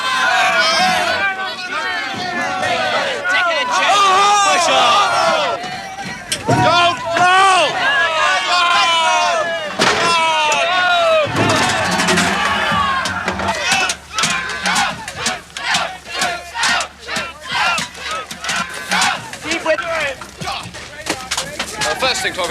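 An angry crowd shouts and roars in a military riot control exercise, loud surging yells and chants close by, breaking into rhythmic bursts of shouting toward the end.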